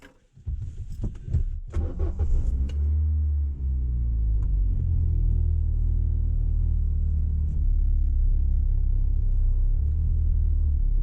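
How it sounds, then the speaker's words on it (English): Classic Mini car starting off on a drive, its engine rising from a few clunks into a loud, steady low rumble heard from inside the cabin, with no talking. "Let's go for a little drive."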